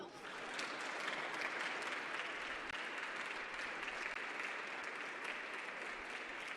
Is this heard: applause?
yes